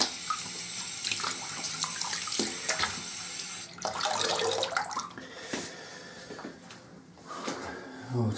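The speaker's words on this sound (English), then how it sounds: "I will rinse off with some cold water" Cold water runs steadily from a tap into a sink for rinsing off after a safety-razor shave with an Edwin Jagger DE86, a continuous close splashing with shifting bursts as hands move under the flow.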